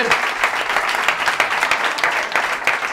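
Loud, sustained applause from a conference audience at a public-speaking talk, dense and continuous for the whole stretch, with scattered brighter claps standing out and a faint voice or two underneath.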